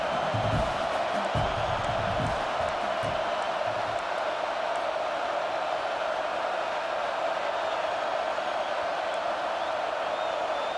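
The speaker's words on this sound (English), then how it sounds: "And this crowd coming to life here, trying to help the defense get a stop." A football stadium crowd roars steadily for the defense, a loud, sustained wall of cheering and noise that stays constant throughout, with a few thumps early on.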